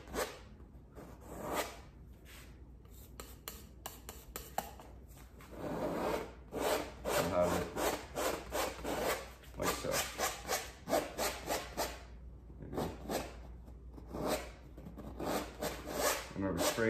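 Palette knife scraping excess paint off a canvas in repeated short rasping strokes, faint and close, with quiet pauses between bursts.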